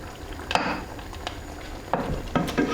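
Warmed Salisbury steaks go back into a pan of caramelised onion and mushroom gravy, with a few clattering knocks of utensil on metal over a quiet background hiss.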